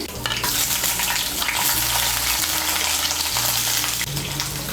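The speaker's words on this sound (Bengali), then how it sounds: "আমি দিয়ে দিচ্ছি একটা বড় সাইজের পেঁয়াজ কুচি।" Six or seven garlic cloves and a large chopped onion fry in hot oil for Bengali aloo dum, giving a loud, steady, close sizzle with a low rumble underneath. The sizzle holds throughout with no talk.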